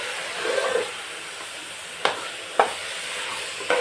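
Carrot halwa with cardamom is stirred in a pan, giving a soft scraping and sizzle, with a few sharp spoon clicks against the pan near the end.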